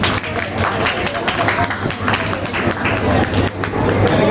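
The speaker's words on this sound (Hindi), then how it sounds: "तालियां रुकी नहीं जाएंगे।" Audience applause at a creator meetup in Kichha, Uttarakhand, a dense, steady wash of clapping from a large crowd that carries on without a break, with faint chatter and crowd noise underneath.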